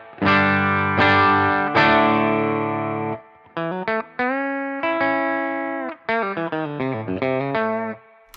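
Dry electric guitar tone, unprocessed and ahead of a Suhr Woodshed compressor, plays sustained chords and then a run of short picked notes and phrases, up close and alone.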